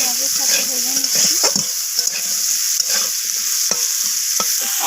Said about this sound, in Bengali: আলুগুলোকে নাড়াচাড়া করে পেঁয়াজের সাথে ভেজে নিচ্ছি